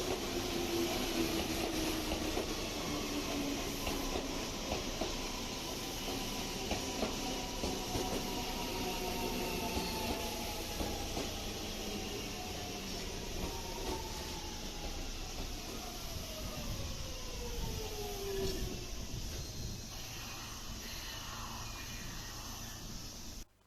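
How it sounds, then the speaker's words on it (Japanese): A Seibu 9000 series train rolls into Hagiyama Station's platform 3 after crossing the Tamako Line tracks. There is a steady rumble with squealing tones that slowly fall in pitch as it slows, heard from a distance and fairly faint. "西武新宿駅へ向かう電車が、左方向から西武多摩湖線の線路と交差して、萩山駅3番ホームへ入線してきました。"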